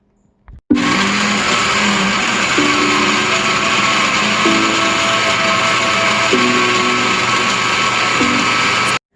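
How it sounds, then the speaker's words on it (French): A blender whirs loudly and steadily as it blends a pineapple smoothie, starting abruptly after a brief bump and running continuously for about eight seconds before cutting off. "là, je vais brasser le smoothie"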